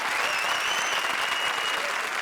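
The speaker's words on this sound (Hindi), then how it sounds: "जोरदार तालियां" A studio audience at a comedy show bursts into loud, steady applause that fills the whole moment without a break, with a dense wash of clapping and no talking.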